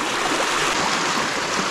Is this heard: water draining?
yes